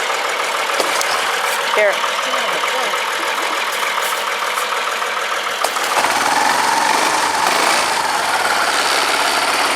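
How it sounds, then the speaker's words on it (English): Small air-cooled engine running at idle after being pull-started with a dead battery, a steady mid-pitched rumble with a brief voice over it and a change in tone partway through. "It's an air-cooled engine."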